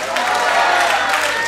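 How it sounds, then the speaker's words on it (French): Audience at a singing contest at a caravan festival applauding a contestant, a steady crowd of clapping with some cheering, close and continuous, with a voice speaking over it. "On l'applaudit, Stéphanie Tessier."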